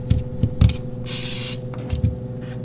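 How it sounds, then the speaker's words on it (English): A single hissing burst of cooking spray coats potatoes in an air fryer basket, lasting about half a second, surrounded by soft clunks and handling knocks. "So I'm just gonna spray these with some cooking spray"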